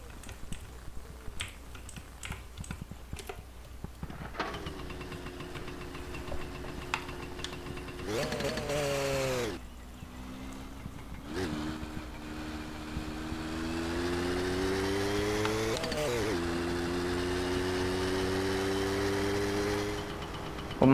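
A motorbike engine in the driving game My Summer Car revs repeatedly, its buzzing tone climbing steeply in pitch, dropping and climbing again through several surges, preceded by scattered faint clicks.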